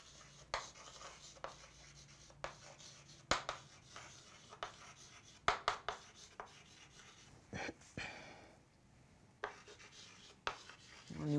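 Chalk or marker writing on a classroom board, irregular short scratching strokes and taps spaced across the stretch, with a quiet room hum beneath.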